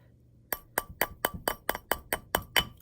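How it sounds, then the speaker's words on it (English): A wire ring is struck against a metal mandrel with a small hammer, about ten sharp, ringing taps in a quick, fairly even rhythm, close and clear with nothing else heard. "So I hit it a few times to bring this circle around"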